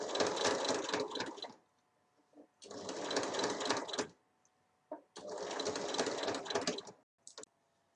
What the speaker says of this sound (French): on va tout doucement piquer en repliant le tissu comme ceci